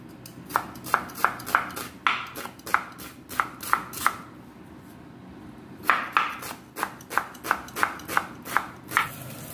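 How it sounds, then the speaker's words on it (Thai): A knife chops an onion into cubes on a board, two runs of quick, crisp, evenly spaced close-up strikes separated by a short pause. "หอมใหญ่1หัวค่ะหั่นเต๋าเหมือนกัน"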